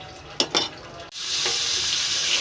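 Oil and chopped onion sizzle in a hot wok (karai), with a couple of sharp utensil scrapes and clinks before a loud, steady frying hiss takes over and continues.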